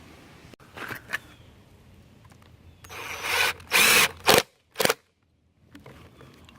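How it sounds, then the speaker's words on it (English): A power drill drives screws into particle board. Several short, loud whirring bursts with brief pauses stand out against a quiet room. "I'm going to put screws in it"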